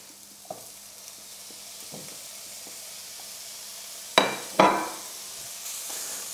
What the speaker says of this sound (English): I think we'll put the bacon in there.